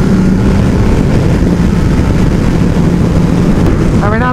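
Kawasaki ZX12R motorcycle engine heard while riding, a steady loud drone with heavy wind rush over the microphone throughout, and a brief rising engine whine near the end.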